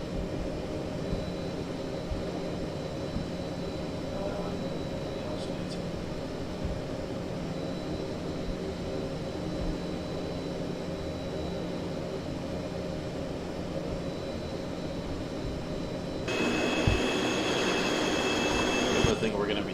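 A flight simulator airplane's engine drones steadily before takeoff, a continuous mid-level hum with faint tonal whine; the sound shifts brighter and slightly louder near the end.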